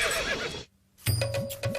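Horse neighing loudly and close, a high whinny with wavering pitch that follows a short silence, with a burst of other commotion before the gap.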